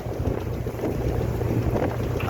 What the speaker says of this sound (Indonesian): mesin kapal digas-gas dulu